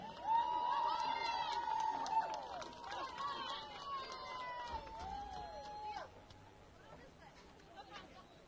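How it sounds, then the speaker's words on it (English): A soccer crowd cheers and whoops to open the second half of a game. The noise is loud and busy, with whistle-like calls at first, then it fades to a lower hubbub after about six seconds. "Let's hear some cheering."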